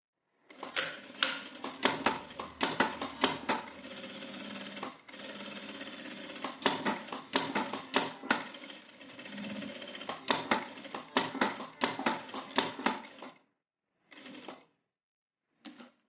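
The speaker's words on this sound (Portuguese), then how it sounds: "Posiciono desse jeito e passo a costura em toda a volta, deixando a abertura aqui na parte de baixo." A sewing machine stitching fabric around the edge of a phone wallet, in rapid mechanical bursts of clattering stitches with short pauses between runs, then a couple of brief final spurts; close and clear, no speech.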